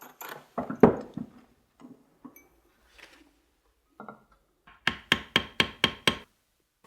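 Hand beveling of dampened saddle leather in a saddlemaker's shop: scattered soft taps and scrapes, then a run of six sharp, evenly spaced strikes near the end, close and fairly loud with no talking.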